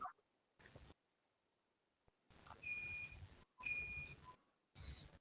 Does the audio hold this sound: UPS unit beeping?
yes